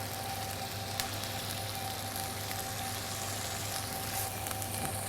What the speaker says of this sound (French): maintenant que l'huile est bien tempérée, les petits artichauts poivrades. On va les déposer dans l'huile d'olive